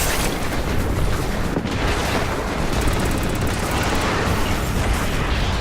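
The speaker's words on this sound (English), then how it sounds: "SMG, very close quarters gun" Close-quarters SMG fire in a sci-fi mech video game, a dense continuous roar of rapid shots and booms that stays loud and unbroken, with no speech.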